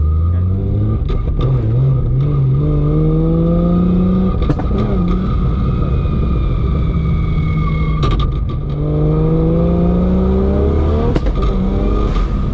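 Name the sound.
Barra GT350 engine making exhaust pops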